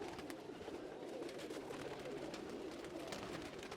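Pigeons of Ustad Dilawar Khan's house breeds, including red-eyed, Tausi, Hira Lal and Galwe types, coo steadily in a dense flock, a continuous murmuring chorus close by with no talking.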